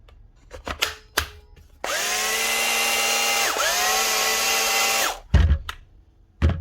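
An old 24-volt Bosch GBH 24 VRE cordless SDS drill whirs loudly for about three seconds with a brief dip in speed, framed by handling clicks and knocks before and after.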